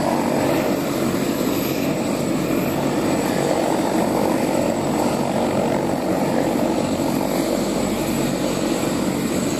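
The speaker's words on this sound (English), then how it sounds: "I turned my head and I saw a helicopter." A helicopter flying overhead with a steady, loud, broadband rotor and engine roar that holds constant throughout, with no voices.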